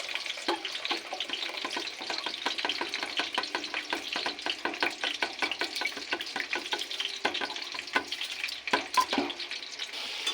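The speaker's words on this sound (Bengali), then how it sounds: "আলুটা ভাজা হয়ে গেছে" Potato pieces frying in a pan for cauliflower khichuri, a steady close sizzle broken by crackling pops and scraping stirs, with no talk.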